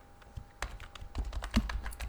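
Keys clatter on a computer keyboard during a coding session, irregular close taps and short bursts with small pauses between them, quiet and alone without talk.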